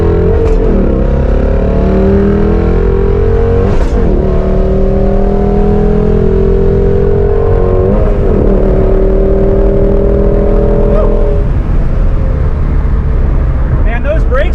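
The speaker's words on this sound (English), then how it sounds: "We're just gonna see what the acceleration is from a lower speed and a lower RPM." A 2020 Mustang GT pulls hard from a rolling start, heard from inside the cabin: a loud, droning V8 roar climbing through the revs, dipping briefly at each gear change before building again.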